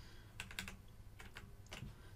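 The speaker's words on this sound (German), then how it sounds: "dann drücke ich die Steuerungstaste C, um etwas zu kopieren" Keys clicking on a computer keyboard in a text editor as Ctrl and C are pressed: several light, close taps in a short cluster, then a couple more clicks, over steady room hiss.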